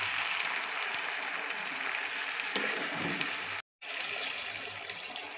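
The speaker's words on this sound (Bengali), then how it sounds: "অল্প অল্প করে প্রায় পরিমাণ মতো জলটা দিয়ে" Water poured little by little into browned chicken curry meat in a pan, a steady hissing sizzle and splashing that runs continuously, with one brief cutout partway through.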